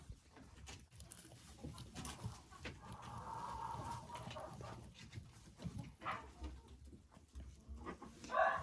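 An Ameraucana hen sitting on her eggs gives low, soft clucks and murmurs nearby, with rustling and a few sharper calls near the end, and no clear speech.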